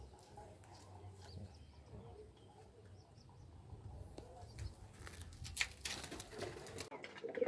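Madras pigeons, a high-flying short-size breed, coo softly in a low, repeating murmur amid faint background rustle, with a few sharper chirps and taps toward the end.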